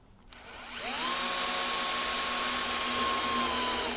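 A power drill with a 2.5 mm bit bores a hole in an acoustic guitar body for a strap button. The motor spins up to a loud, steady high whine that holds for several seconds, close by, with no talking.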